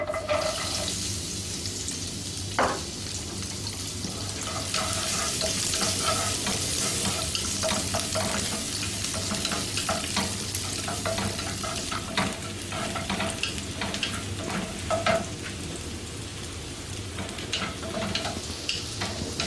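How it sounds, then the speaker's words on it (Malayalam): Garlic cloves sizzle in hot oil with a steady crackle, while frequent clinks and scrapes of stirring run throughout and a low hum sits underneath. "ഞാൻ എണ്ണയിലേക്ക് ഇത് ഒരു 3 to 4 ഒരു 3-4 ക്ലോവ് ഓഫ് വെളുത്തുള്ളിയാണ്, വലിയ വെളുത്തുള്ളി മിക്സ് ചെയ്തത്"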